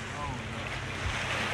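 Continuous roar of Atlantic surf at a beach in Punta Cana, mixed with heavy wind buffeting the microphone, loud and steady throughout.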